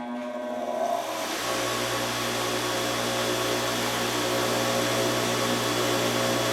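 Bench grinder fitted with a deburring wheel switching on and spinning up, a sharp rise into a steady, loud motor whine and hum that holds evenly, close and with no talk.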